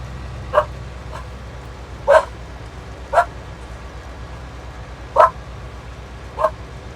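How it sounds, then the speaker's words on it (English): Dogs barking outdoors on a farm during a beet harvest, five separate sharp barks spaced roughly a second apart over a low rumbling background. "harvesting beets with the dogs barking in the background"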